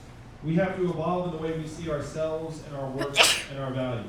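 A single sharp sneeze bursts from the audience at a town hall in Grinnell, Iowa, cutting briefly across a man's steady speech from a microphone.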